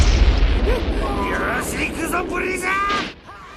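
A loud explosion from the Ninpuu Sentai Hurricaneger tokusatsu TV show booms at the start and rumbles as it fades. Dramatic whooshing sound effects are layered over the blast, which cuts away near the end.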